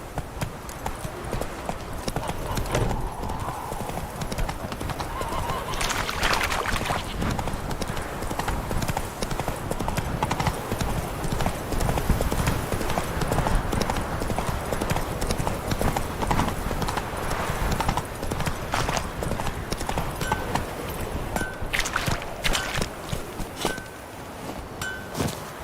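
Roach, the horse in The Witcher 3: Wild Hunt, gallops in a steady, loud clip-clop of hooves that runs the whole time over rustling ground, with a short snort or whinny partway through.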